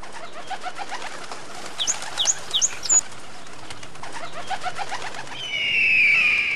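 Pigeons and sparrows feed together, with soft coos and chirps, a few sharp calls and short bursts of wing flapping in a busy outdoor scene that swells into louder flutter near the end.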